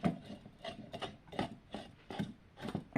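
Philips 23 watt PL electronic-T fluorescent stick bulb being pushed and twisted into its socket, giving a series of rhythmic scraping, grinding rasps close up with no talking.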